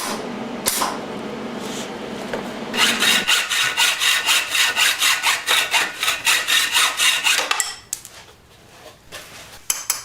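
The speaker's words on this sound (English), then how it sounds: "This side I could probably just cut with the hacksaw later." Hacksaw cutting metal on a Honda Sabre motorcycle frame during a cafe racer build, steady rhythmic back-and-forth rasping strokes, close and loud for several seconds, followed by a few scattered metallic clinks.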